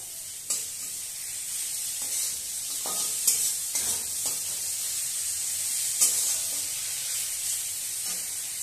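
Ginger and green chili paste sizzling in hot oil in a pan, a bright, steady hiss with a few light scrapes and taps of a utensil, close and continuous.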